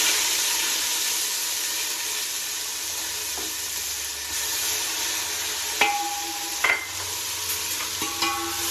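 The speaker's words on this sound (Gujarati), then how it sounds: "આદુ લસણનો વઘાર કરી નાખી" Oil sizzles and spatters steadily in a hot pan as garlic and ginger temper with asafoetida and turmeric, with a few sharp clinks of a utensil near the end.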